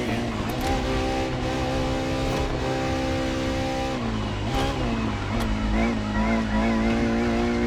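A Ferrari FXX-K in the racing game The Crew Motorfest, heard from the cockpit, roars loudly and continuously, its engine pitch rising and dropping through gear shifts and acceleration.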